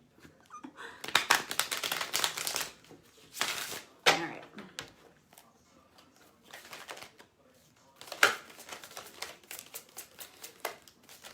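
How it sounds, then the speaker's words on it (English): Oversized tarot cards from a Tarot of Azathoth deck are shuffled close by in several quick, crisp bursts of riffling and slapping, separated by short quiet pauses. "Quick shuffle. I know, these cards are gigantic."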